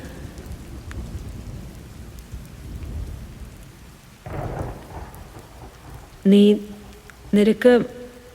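Steady rain with a deep rumble of thunder rolling through at night, followed by a couple of short voiced, tonal sounds toward the end.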